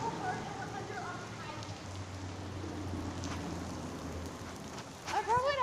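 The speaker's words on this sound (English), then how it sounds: "It is like raining so bad." Heavy rain pours down with a dense, continuous hiss and patter close by, and a person speaks over it near the end.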